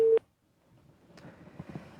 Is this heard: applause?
no